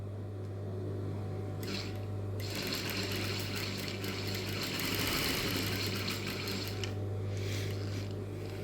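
A sewing machine stitching a school uniform skirt, a steady mechanical hum with a low motor drone and bursts of rapid stitching chatter that start and stop, close up with no talking.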